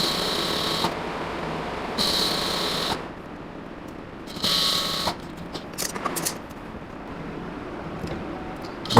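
A sewing machine stitches salwar fabric, running in three short bursts of steady whirring with pauses between, close by, followed by lighter handling clicks.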